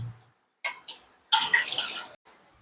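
Short splashes of water, then a longer swishing pour and slosh as sama millet grain is rinsed in a vessel; no talking.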